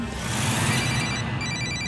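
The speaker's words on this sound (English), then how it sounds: "there's another call from Kevin's house, his wife, calling his cell phone again" A cell phone rings steadily with a bright, continuous electronic tone over a low rumbling background, heard close and without any talk.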